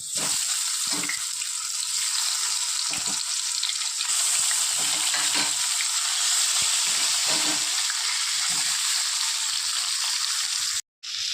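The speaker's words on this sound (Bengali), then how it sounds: "ওই তেলে বাদবাকি মাছগুলো ছেড়ে দেবো।" Remaining pieces of bhola fish frying in hot mustard oil give off a loud, continuous sizzle, with steady crackling and bubbling throughout and a brief drop-out near the end.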